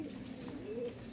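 A Madrasi tournament pigeon gives a single soft, brief coo, faint and close in a quiet indoor breeding room.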